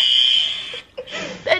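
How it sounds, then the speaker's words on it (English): A building fire alarm blares at 3 a.m. with a shrill, loud tone that cuts off briefly before people's voices are heard nearby. "the fire alarm just starts going off"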